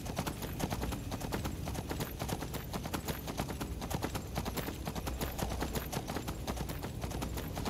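Horse hooves clip-clop steadily in a Skyrim game scene, a continuous rapid trotting rhythm under dense ambient game sound with no voices.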